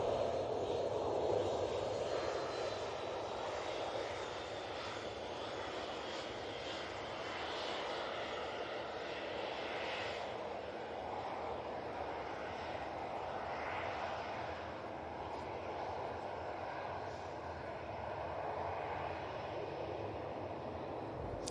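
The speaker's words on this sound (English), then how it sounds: "let's now move over to the beautiful Junyao Dreamliner." Boeing Dreamliner airliner engines at Manchester Airport give a steady, broad roar with a faint high whine, holding constant for the full length with no talk over it.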